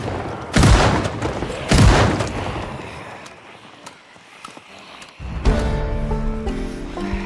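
Two heavy JS2000 shotgun blasts in the zombie survival video game Project Zomboid, close and booming about a second apart, followed by quieter game ambience and a soft rising tonal sound near the end.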